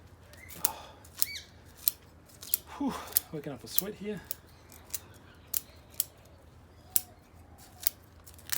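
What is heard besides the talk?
scissors cutting trident maple bonsai roots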